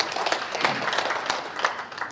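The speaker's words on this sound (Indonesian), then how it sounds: "Tepuk tangan, Ibu." An audience claps at a provincial Hindu council (PHDI Banten) assembly, a moderate, steady patter of hands lasting a couple of seconds, fairly near and without talk over it.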